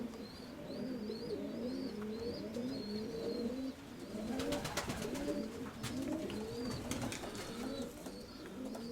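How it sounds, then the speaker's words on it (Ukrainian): Pigeons coo steadily in repeated low, rolling phrases throughout, close and clear, with small birds chirping faintly in the background and a brief burst of fluttering or rustling midway. "Ось він такий от голуб."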